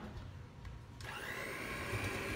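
An electric mixer starts up at low speed while beating batter for a Neapolitan sponge cake, a steady whirring motor hum that holds evenly and close.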